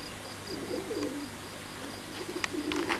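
Racing pigeons at a loft coo softly in low, rolling phrases, with a few brief sharper chirps near the end over a steady faint background hiss.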